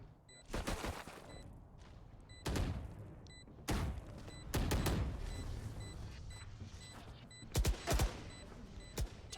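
Gunfire in a Valorant esports match, sharp bursts of shots and short rapid volleys spread over several seconds, with faint game beeps between them.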